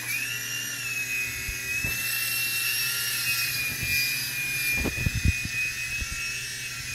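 A small toy helicopter flies around inside an apartment, its rotor giving a steady high-pitched whine throughout, with a few light knocks and thumps near the end.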